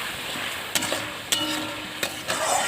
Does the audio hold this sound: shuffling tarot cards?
no